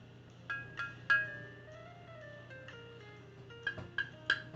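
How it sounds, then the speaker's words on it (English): Several light glassy clinks and taps with ringing tones on a solid glass Bombay Sapphire gin bottle, scattered across a few seconds, fairly quiet against a low background hum. "That's the sound of a solid glass bottle."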